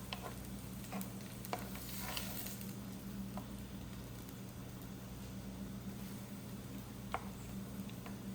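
Chopped onion and garlic fry in a hot pan with a steady, soft sizzle. A few scrapes and stirring clicks come through over a low background hum, and no one speaks.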